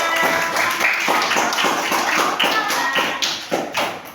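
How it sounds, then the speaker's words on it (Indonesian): Classroom applause during a lesson on recognizing patterns, a group of students clapping in a loud, close, roughly rhythmic run of sharp claps that becomes more scattered near the end. "Ya, tepuk tangan."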